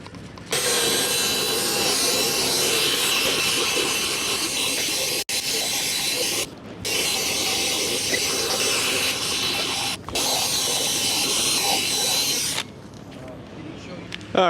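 A pressure washer sprays water through a heavily soiled car interior during a rinse, a steady loud hissing spray running in long bursts with brief pauses between them, no voices.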